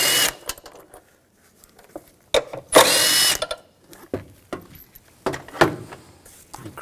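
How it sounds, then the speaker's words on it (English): A 10mm socket ratchets out two bolts on a 2000-2006 BMW X5 3.0L inline-six during a thermostat housing job, heard as close bursts of clicking and whirring with brief louder mechanical spurts and pauses between. "Take these two bolts out, use a 10mm socket."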